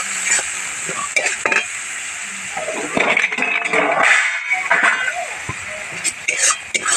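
Spice paste is stir-fried hard in a pan for a pomfret curry, a loud close sizzle with repeated scraping strokes, and a voice murmuring now and then underneath.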